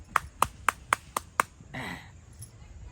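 Six sharp hand claps land in a quick, even rhythm, crisp and close, followed by a short stretch of muffled talking.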